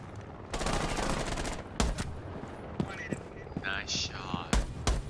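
Gunfire in Rainbow Six Siege during a ranked bomb round: a rapid burst of automatic shots followed by several sharp single shots, close and loud, with game sounds in between.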